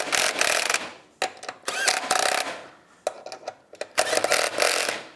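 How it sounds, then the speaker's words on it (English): A Snap-on impact wrench runs in ball joint bolts on a 2015 Polaris RZR 900S, loud rattling bursts of about a second each, repeated several times with short pauses between, no talk. "we've got a snap-on impact wrench"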